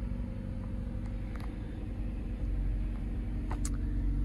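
A 2015 Jeep Renegade Limited engine idling after starting, a faint, steady low rumble with no revving, heard alone.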